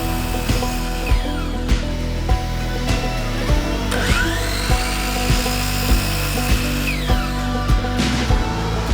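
A power saw cuts 3/4 inch wood strips, with the board slid up against a clamped stop block between cuts. The motor drones steadily throughout while regular sharp cutting hits repeat roughly every half second.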